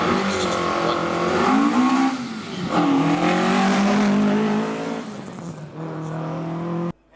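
A 1968 Ford Escort MK1 race car runs hard at the Simola Hillclimb, engine snarling close and loud through rising and falling revs as it works up the course, then fading away before cutting off abruptly, with some talk beneath.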